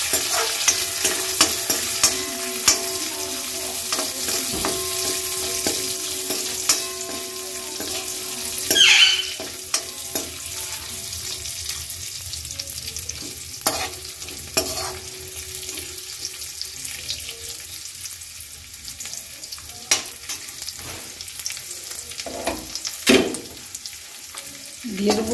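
Bay leaf, raisins and cashews fry in a pan with a soft, continuous sizzle, broken by scattered stirring scrapes and clinks, fairly close and without speech.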